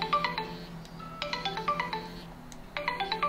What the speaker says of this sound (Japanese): ああ電話電話。